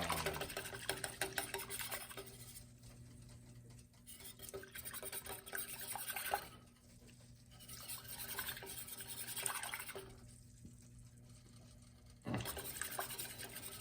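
A whisk working sifted flour in a pan makes a quiet, rapid scraping and swishing that comes in repeated bursts, broken by short lulls.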